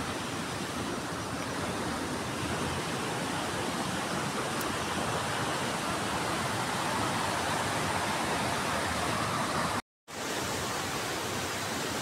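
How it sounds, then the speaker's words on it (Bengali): Waterfall beside the Jhalong river, a constant broad rush of falling water filling the air without a break, loud and steady, with a brief dropout near the end. "আর এদিকে আছে ঝিলং নদী, ঝর্ণার আওয়াজ তোমরা শুনতেই পাচ্ছ"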